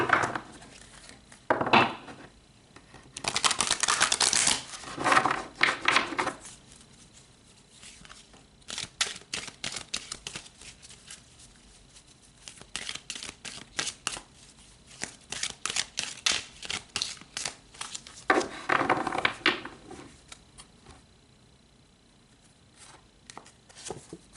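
Tarot cards shuffled and pulled from the deck, giving long stretches of rapid riffling and flicking bursts with brief pauses, fairly close and moderately loud.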